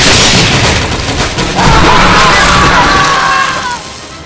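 A bomb explodes in the video game Operation: Black Sun, a loud sustained boom and roar filling over four seconds, with a whistling tone sweeping through it and crowd-like noise beneath.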